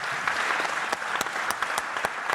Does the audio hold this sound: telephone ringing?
no